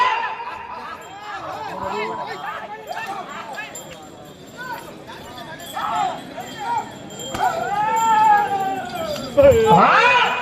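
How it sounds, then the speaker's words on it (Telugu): Bullocks arrive at a ploughing competition in Khajipet, K Agraharam, amid a lively rural crowd. Animal movement and hoof clatter mix with chatter, laughter and calls, while people talk throughout. "ఎద్దులు వచ్చినాయి కదా"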